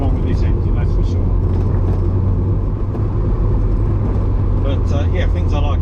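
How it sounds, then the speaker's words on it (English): MG TF 160 sports car engine droning loudly and steadily, its deep rumble building without letup while a voice talks over it throughout. "Just about ready to redline it in seconds."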